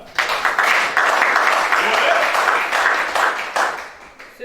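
A church congregation breaks into sustained applause during a sermon, a dense, fairly close clapping that swells and holds for several seconds before tapering off.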